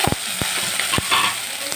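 Chopped onions fry in oil with cumin and mustard seeds and whole spices, a steady close sizzle broken by a few scraping stirs of the spoon.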